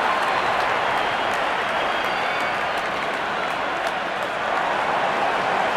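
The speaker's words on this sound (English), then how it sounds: "his team gets the applause it deserves" Crowd applause for a six in the Real Cricket video game, dense sustained clapping and cheering from a large stadium crowd, loud and steady for several seconds.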